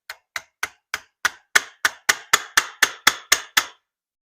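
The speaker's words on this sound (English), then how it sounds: "you have a tab right here that you have to tap out of the way" A screwdriver taps a small tab on a 42mm Mikuni carburetor during disassembly: about thirteen sharp metallic knocks at an even, fairly quick pace, close and clear, growing a little louder after the first few.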